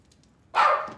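A dog in a home setting lets out a single loud, sharp bark burst at visitors after a quiet moment, close to the listener.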